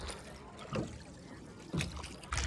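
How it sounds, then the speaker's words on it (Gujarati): A rowing boat on Mandan lake near Rajpipla, with faint paddle splashes and water swishes arriving about every second against a quiet, open background. "મસ્ત બોટ ચલાવે છે અજય."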